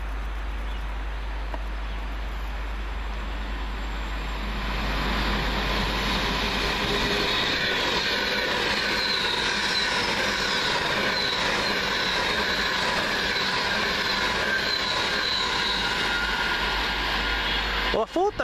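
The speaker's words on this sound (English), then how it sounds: "One Hotel 17 from London, Euston to Manchester Piccadilly for Virgin Trains." Virgin Trains service from London Euston to Manchester Piccadilly passing at Heaton Chapel, a steady broadband rumble swelling after a quiet start and holding loud, with faint talk in the background.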